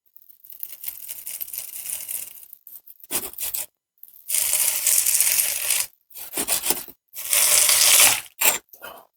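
A tile is pried off a GoBoard shower wall panel bonded with thinset, with loud close bursts of scraping, crunching and ripping board, separated by brief silent gaps.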